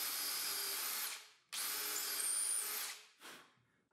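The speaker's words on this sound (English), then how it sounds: "I make holes in the frames of the bench to attach the brackets." A power drill bores holes into the frame of a workbench for fitting table saw brackets, with three close, loud whining bursts that spin down between holes, the last one short.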